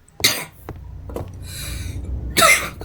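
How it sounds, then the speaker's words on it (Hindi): Several sharp coughs: a quick pair near the start, a couple of softer ones in the middle, and a loud burst at the end, with faint background noise between. "खांसी हो रही यार"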